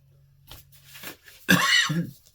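One loud, close cough breaks out after a few faint rustling sounds, then the room falls quiet.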